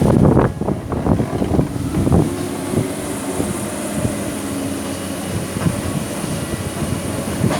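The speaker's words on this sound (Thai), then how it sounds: "สียงฟ้าก็ร้องแล้ว" Strong storm wind buffets the microphone in heavy, continuous gusts, with low rumbling underneath as thunder sounds before rain; the roar stays loud and unbroken, and no one speaks.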